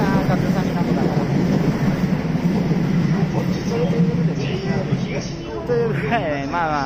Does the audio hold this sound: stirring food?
no